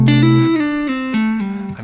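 Electric guitar plays a chillhop riff without the neo-soul flick: a few sustained, gliding notes that slide and shift smoothly, close and fairly loud, with no talk.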